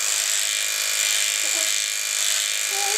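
An electric razor shaves off a man's full beard for Movember, giving a steady close buzzing hum throughout, with brief faint voices murmuring underneath.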